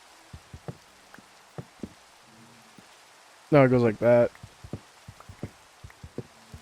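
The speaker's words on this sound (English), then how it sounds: "this is like the second time it's just been raining." Rain falls in the Minecraft video game as scattered, light dripping ticks spread across the whole stretch, with a short burst of talking partway through.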